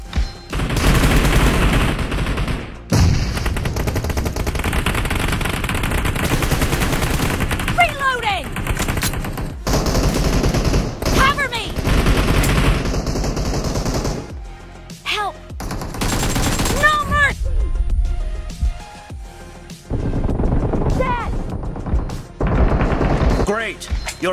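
Rapid AKM and M416 rifle fire in a mobile battle-royale shooter, dense bursts and sustained volleys running almost continuously at close range, with game announcer voice and speech layered over the gunfire.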